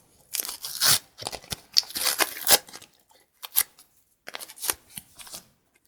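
Paper blind bag packets being torn open with Among Us toy figures inside, crisp tearing, crinkling and rustling in several bursts close to the mic, with short pauses between.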